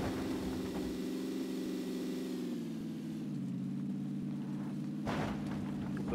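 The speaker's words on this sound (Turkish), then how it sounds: "Yani nerede durdu motor sesi?" Steady droning vehicle engine in PUBG, a sustained mid-pitched hum that dips slightly in tone partway through and carries on at moderate level, with a brief burst of noise near the end.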